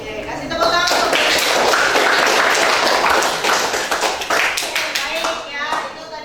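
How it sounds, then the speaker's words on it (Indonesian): A classroom audience claps and applauds for about five seconds, a dense, steady patter of many hands filling the room, close and loud, easing slightly toward the end. "Oke, kasih tepuk tangan."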